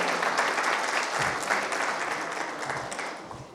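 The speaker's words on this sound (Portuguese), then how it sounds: "Uma salva de palmas para ela." An audience at a geology talk on long-term mineral resource depletion claps to welcome the presenter, a steady, full burst of applause that tapers off toward the end with no talking.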